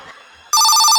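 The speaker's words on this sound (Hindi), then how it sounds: "अरे फोन किसका आ रहा है तुम्हारे घर पे?" A telephone in a house suddenly starts ringing, a loud, bright electronic trill that cuts in halfway through after a quiet moment and carries on steadily.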